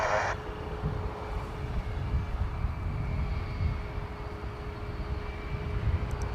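Aircraft operations at DFW Airport come through as a continuous low engine rumble with a faint steady tone above it, moderately distant and unbroken.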